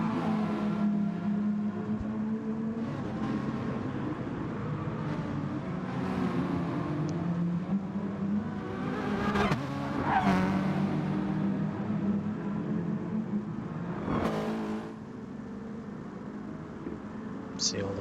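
Racing cars in a GT touring car racing video game drone steadily and sweep past in occasional louder pass-bys, heard under ongoing commentary talk.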